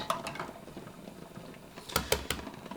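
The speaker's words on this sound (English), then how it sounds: "It is a little hard to read now that it's boiling and bubbling" Eggs boil and bubble inside a small countertop egg cooker gadget, a soft steady simmering hiss broken near the end by a few sharp rattling clicks of the eggs or lid.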